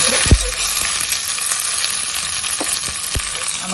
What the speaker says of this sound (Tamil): இப்போ நம்ம கருவேப்பிலை சேர்த்துக்கலாம்.